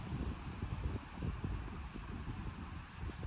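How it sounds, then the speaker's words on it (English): Wind gusting outdoors near an interstate and a dairy farm, a faint low rushing and buffeting over the microphone in uneven surges, with no voices. "I've got the wind blowing right now like crazy"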